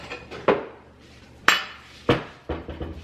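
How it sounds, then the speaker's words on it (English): Egg cracked and separated in a kitchen, heard as four sharp taps and knocks against a hard rim, spaced about a second apart, close and clear with no talking. "then we're gonna separate our egg"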